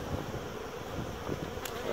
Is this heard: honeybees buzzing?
yes